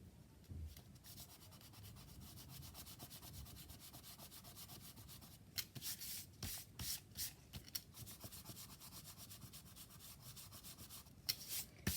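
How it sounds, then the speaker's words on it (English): An eraser rubs out pencil marks on a junk journal cover, a soft continuous scratchy rubbing close by that runs the whole time, with quick back-and-forth strokes toward the end. "what I do here is rub out first"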